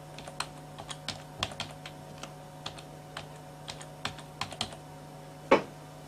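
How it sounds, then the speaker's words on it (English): A password is typed on a computer keyboard, a quick, close, uneven run of light key clicks, ending in one harder keystroke. "I will type in a password."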